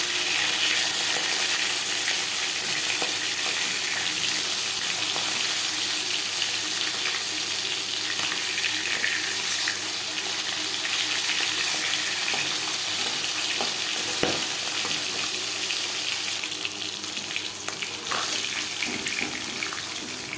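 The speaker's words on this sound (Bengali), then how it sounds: "একটা সাইড ভাজা হয়ে গেলে অপর সাইড উল্টে দেবো।" Chala fish frying in hot oil in a pan, a continuous bright sizzle that holds steady and close for the whole stretch, with occasional small pops and no talking.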